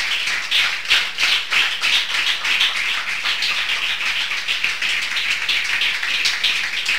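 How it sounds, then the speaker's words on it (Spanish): Congregation applauding in a church service, a dense, sustained wash of many hands clapping at steady loudness with no voices over it. "Denle un fuerte aplauso al Señor"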